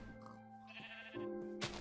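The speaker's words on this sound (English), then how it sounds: "A sheep!" A sheep in the Minecraft video game gives a single wavering bleat, clear and moderately loud over steady in-game background tones, ending with a brief soft rustle.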